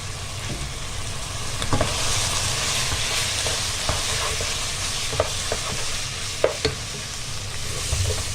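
Chopped onion fries in a sauce for a baked macaroni dish while a spoon stirs it. A soft, continuous sizzle sits under scattered clinks and scrapes of the utensil against the pan.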